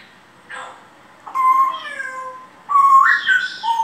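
An African grey parrot imitates a cat, giving a few short, nasal meow calls in a row, close and fairly loud, with brief pauses between them.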